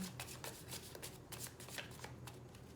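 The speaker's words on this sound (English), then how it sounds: "Last shuffle, then I pull from the top and the bottom." A deck of tarot cards being shuffled, a quick series of riffling, papery flicks in uneven bursts, close and fairly clear with no voices.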